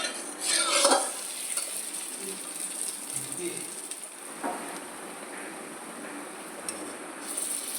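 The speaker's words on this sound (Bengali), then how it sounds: "তারপর আমি চলে এলাম গরম গরম তিলের বড়া ভাজতে" Sesame fritters frying in hot oil with a soft steady sizzle, now and then a utensil stirring or scraping the pan, fairly quiet and close.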